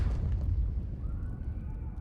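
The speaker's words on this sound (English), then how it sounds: "A sudden deafening crash from outside makes the delegate jump, startled. A rumbling like thunder follows." In the Pillars of Eternity video game, a sudden deafening crash bursts outside, followed by a deep, thunder-like rumble that slowly fades over a couple of seconds.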